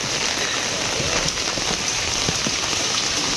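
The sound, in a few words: rain in a remote village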